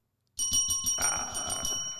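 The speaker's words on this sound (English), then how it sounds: "You got the buzzer and bell ready?" A quiz bell rings after a correct answer in a trivia segment, a sudden bright metallic ringing with rapid repeated strikes that starts abruptly and sustains for under two seconds, loud and close.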